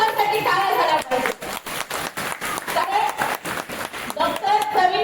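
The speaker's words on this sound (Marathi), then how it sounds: "एकदा त्या गावातल्या लोकांसाठी टाळ्या झाल्या पाहिजे." Audience claps for the villagers, with uneven rhythmic clapping mixed with a speaker's voice, which continues over and between the hand claps throughout.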